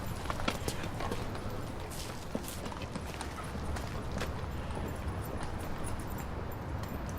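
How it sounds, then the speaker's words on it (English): Horse hooves clip-clop in a steady rhythm on a hard surface, faint and somewhat distant over a low rumbling background. "Oh, look at that big dog. It's a horse."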